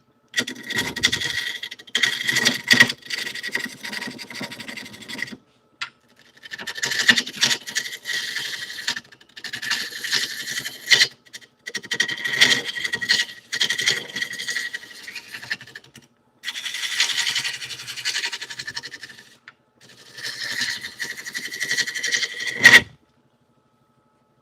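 Roughing gouge cutting cherry wood spinning on a lathe, a dry rasping scrape in repeated bursts of several seconds separated by short pauses, close and steady, with no talking.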